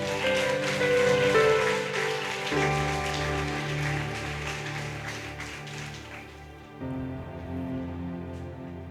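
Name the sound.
church congregation applause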